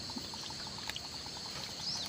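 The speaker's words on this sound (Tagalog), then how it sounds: "Malinaw na malinaw po. Yung tubig na nanggagaling dyan." Clear spring water flows steadily out of its source toward a river below, a soft, continuous trickling rush heard fairly faintly, with a few faint chirps above it.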